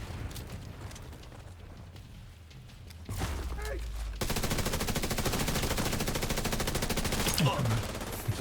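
Rapid automatic gunfire from a first-person shooter video game, a dense sustained burst of shots that swells in the second half over a busy game soundscape, preceded by quieter ambient action and a sharp blast.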